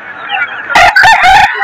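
A rooster crows loudly and close at a poultry market, a long rising call broken into several harsh bursts over a busy background.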